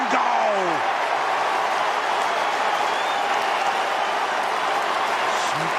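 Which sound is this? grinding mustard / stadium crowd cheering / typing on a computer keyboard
stadium crowd cheering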